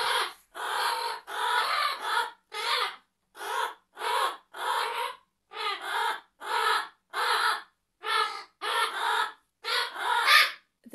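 Pet parrots give a series of loud, harsh caw-like calls imitating corvids, about a dozen rhythmic bursts separated by brief silences, close and clear with no talking.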